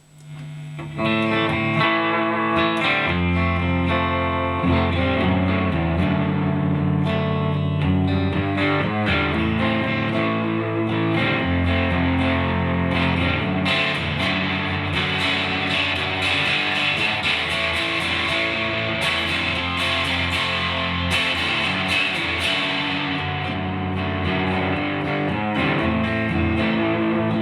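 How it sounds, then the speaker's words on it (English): A heavily overdriven electric guitar riff through an Electro-Harmonix Hot Tubes tube overdrive pedal plays continuously, thick and gritty, with steady chugging picked notes and no voices. "you'll be able to hear the change in the overdrive in response to your picking."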